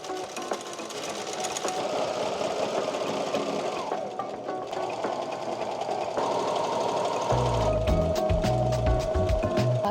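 A sewing machine stitching the top edge of a skirt runs with a fast, steady mechanical whir and rattle, close by, its pitch shifting slightly as it speeds up toward the end.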